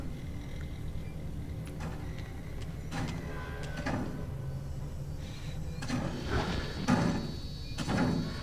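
Heavy knocking and banging on a door in the horror game Outlast: Whistleblower, a series of loud irregular thuds over a dull rumbling game backdrop.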